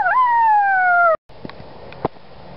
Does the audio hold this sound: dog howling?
yes